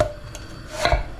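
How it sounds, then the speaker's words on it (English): A knife chops red onion on a board in a home kitchen, a few close, quick dull knocks with crisp onion crunch, the last strokes landing a little harder. "All there is left is just some chopping, really."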